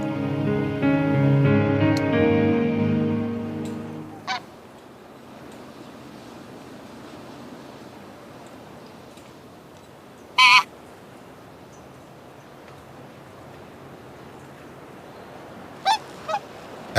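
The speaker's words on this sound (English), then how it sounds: "it was a bunch of swans that did decide." Swans on icy spring water honk in a loud cluster for the first few seconds, then the scene falls to quiet ambience broken by a few sharp, isolated knocks and thumps.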